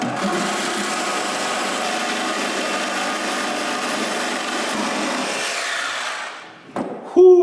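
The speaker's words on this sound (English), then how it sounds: "I'm just gonna use the metal blade with the Milwaukee hacksaw" A Milwaukee hacksaw fitted with a metal-cutting blade rasps steadily and close through metal in a busy shop, cutting continuously for about six seconds before stopping, followed by a brief clatter.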